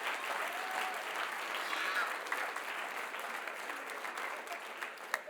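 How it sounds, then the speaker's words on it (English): Audience at a school event applauding performers, the true stars of the show: a steady, even wash of many hands clapping at moderate distance, sustained without pause from start to finish. "a round of applause for the true stars of the show."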